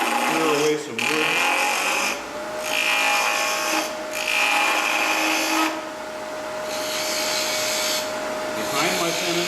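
A wood lathe spins a workpiece while a gouge clears wood behind the tenon, giving a steady motor whine with scraping, hissing cuts that come in several bursts and pauses.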